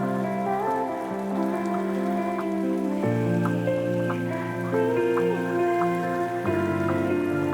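Steady rain hiss woven into a laid-back music track, continuous patter sitting under sustained tonal chords and soft melodic notes throughout.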